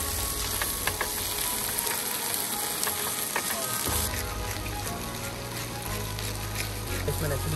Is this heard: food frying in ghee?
yes